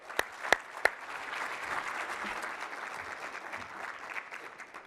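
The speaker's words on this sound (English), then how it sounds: "let's give Ami a round of applause." A conference audience applauds a presenter on stage with sustained, moderately loud clapping after a few sharp early claps, fading toward the end.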